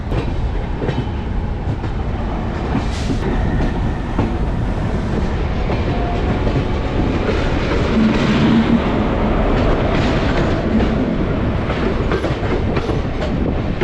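A parcel express train rolls past near New Delhi, a loud continuous rumble with rhythmic clickety-clack of wheels over rail joints lasting throughout, no talking.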